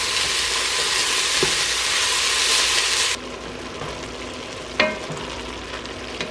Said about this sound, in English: We're sizzling.